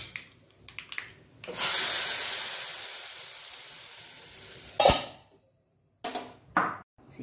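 Hot tempering poured into a knotted colocasia leaf gravy gives a loud, sustained sizzle that slowly fades over a few seconds. A sharp clatter of a lid or pan follows, then a few short knocks close by.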